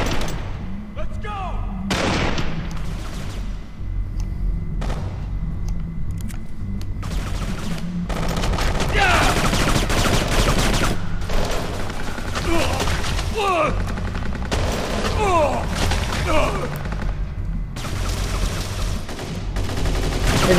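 Rapid gunfire crackles through a shootout in the video game Kane and Lynch 2: Dog Days. Dense bursts and repeated loud shots run almost without a break, with brief pauses, and a voice speaks amid the firing.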